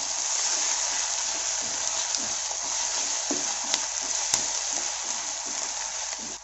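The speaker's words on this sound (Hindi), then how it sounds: "प्याज को अच्छे से फ्राई कर लेंगे जब तक कि इसका कलर गोल्डन ब्राउन ना हो जाए" Onions frying in a pan until golden brown, giving a steady, dense sizzle that runs unbroken at close range with a few faint clinks and no talk.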